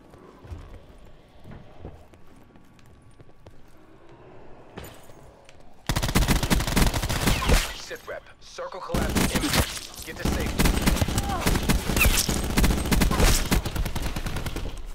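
Rapid bursts of gunfire in Black Ops 4 Blackout on the Alcatraz map, loud and dense through the second half with a brief lull, following quieter game ambience at the start.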